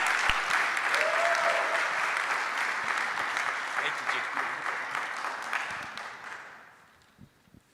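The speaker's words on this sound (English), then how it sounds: "Thanks for the nice applause." Warm audience applause greeting a speaker at a real estate brokerage talk, loud and sustained at first, then thinning out and fading to a few scattered claps at the end.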